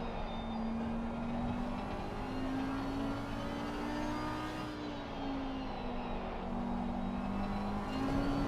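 A Maserati race car engine in the racing game Assetto Corsa Competizione at Indianapolis holds a steady, droning mid-pitched note that rises and falls gently through gear changes, heard alone with no talk.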